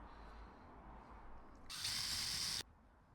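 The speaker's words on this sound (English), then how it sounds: "So I'm just screwing in here." A screw is driven with a power driver into an offcut-wood toy, a single short whirring burst of under a second that starts and stops sharply against quiet room background.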